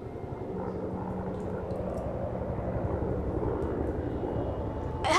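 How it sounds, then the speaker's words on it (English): A helicopter flies far off over a snowy wilderness, heard as a faint, low, steady drone beneath the quiet surroundings. "A helicopter!"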